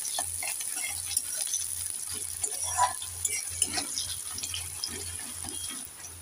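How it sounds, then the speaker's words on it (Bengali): Chopped onions frying in a pan with cumin, a cinnamon piece and cardamom, a soft continuous sizzle over a regular low knocking as the pan is stirred, with no voices. "একটু নেড়ে চেড়ে পেঁয়াজটাকে লাল লাল করে ভেজে নেব।"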